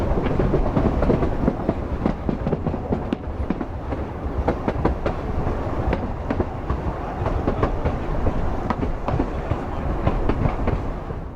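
An East Broad Top M-7 train rolls steadily along the rails at a picnic-area stop, with continuous rumbling and irregular clickety-clack wheel clatter, loud and close throughout, on a cool, damp fall afternoon.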